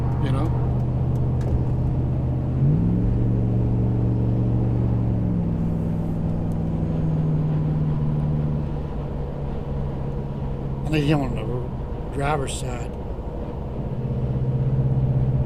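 Dodge minivan driving on the road, a steady low engine drone with the pitch rising and shifting as it changes speed, heard from inside the cabin while someone talks over it.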